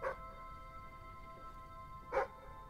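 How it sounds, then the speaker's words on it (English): In the video game Fable III, a dog gives two short barks about two seconds apart, moderately near, over a steady low game background hum with no talking. "Why do you bark?"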